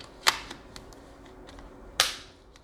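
Two sharp plastic snaps about two seconds apart as the back piece of a Samsung Galaxy Fold 3 case clicks onto the phone, close and crisp with small clicks between.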